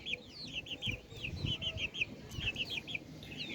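Young chicken chicks sunning on a rooftop give a quick series of high peeping chirps, faint and fairly close, repeating steadily over a soft background hum.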